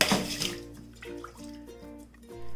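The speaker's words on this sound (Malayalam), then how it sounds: "ഈ ബൗളിലേക്ക് ഈ തേങ്ങ വെള്ളം ഒഴിച്ചു കൊടുക്കണം" Coconut water from a freshly cracked coconut pours into a bowl, a brief splashing gush at the start that tapers to faint trickling beneath steady background music.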